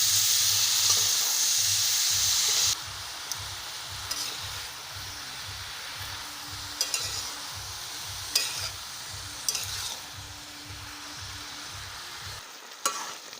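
Boiled cabbage and potatoes being stirred in a pan, with a steady rhythmic scraping and gentle sizzle repeating about every half second; a louder hiss opens the stretch before settling into continuous mixing.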